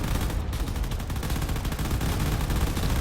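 Dense, continuous rapid gunfire from frigates pounding turrets at close range in the space strategy game Drone Wars, a steady wall of overlapping shots with no pauses and no talking.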